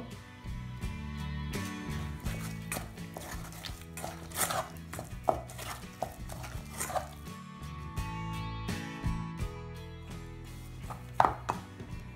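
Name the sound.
mixing egg into cream puff dough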